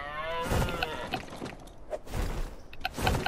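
Sheep creatures in the game ARK Survival Evolved bleat and low in a few short, close calls with gaps between, over a continuous background of game ambience.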